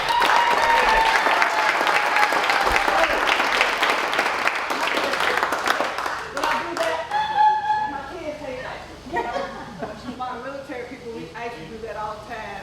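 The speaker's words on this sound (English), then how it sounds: "Let's give an applause for Morcie." Applause from an audience at a museum speaker-series presentation on the Tuskegee Airmen, dense and loud for about six seconds, then thinning out as a voice speaks over the fading claps.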